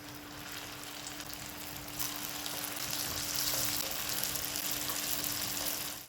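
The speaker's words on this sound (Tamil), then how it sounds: "இப்போ எடுத்து வறுத்து காட்டுறேன்." Chicken spring rolls frying in oil in a pan over low heat, a steady close sizzle and crackle that swells slightly midway and holds throughout.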